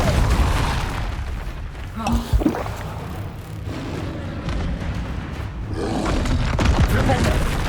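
Depulso spell cast in Hogwarts Legacy, a roaring magical burst with a booming impact in the middle, over continuous game rumble and effects.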